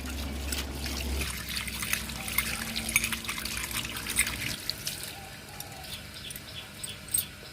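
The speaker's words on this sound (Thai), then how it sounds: "ล้างน้ำค่ะ" Keys are rinsed under running water after scrubbing with bathroom cleaner, giving a steady close trickle and splash that shifts partway through, then quieter dribbling and drips.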